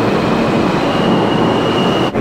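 A subway train rumbles steadily and loudly at close range in New York, a dense continuous roar with a faint high whine, briefly dipping near the end.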